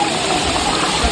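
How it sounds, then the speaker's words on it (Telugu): Rushing water at Katika waterfalls in Araku, a steady, loud, broadband roar with no break across the whole short moment. "beautiful water falls in Katika water falls"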